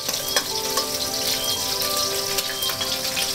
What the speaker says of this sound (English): Meanwhile, I can put in my dried Chinese sausages